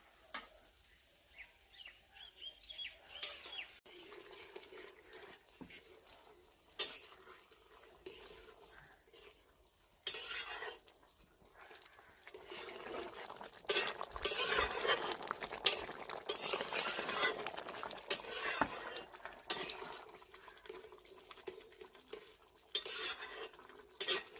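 Eggs and prawns go into a boiling curry in a pot, followed by repeated clinks of a spoon against metal, bubbling liquid and stirring that builds louder toward the end, with some talk over it.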